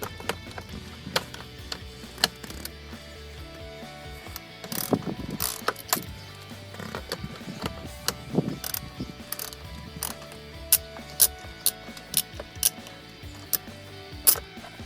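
A hand ratchet removes the bolts from the steering column of a 2005 Chrysler 300C, its pawl clicking in rapid bursts of close, crisp ratcheting with brief pauses between strokes and metallic taps.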